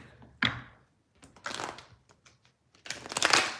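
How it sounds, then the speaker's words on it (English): Tarot cards shuffled by hand at close range, three separate riffling bursts of papery flutter with brief pauses between them, fairly quiet and with no talking. "That's how I know I'm shuffling too much."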